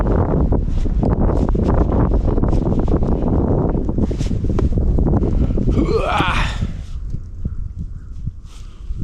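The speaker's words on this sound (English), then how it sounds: "It's a little windy up here." Gusty wind buffeting the microphone in a steady low roar on an elevated spot in Richard J. Dorer State Forest, Kruger Unit, with some rustling and a brief whooshing sweep partway through.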